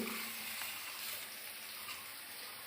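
Onions and potatoes fry in a pan, giving a soft, steady sizzle that stays faint and even for the whole stretch, with no talk.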